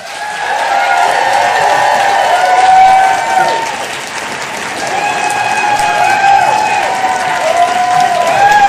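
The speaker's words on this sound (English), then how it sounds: "please join me in applauding and go crazy as we welcome my husband" Audience applause and cheering welcome an author, R. Eric Thomas, to the stage at a book event; loud, sustained clapping with whoops and shouted cheers runs steadily throughout, swelling briefly near the middle.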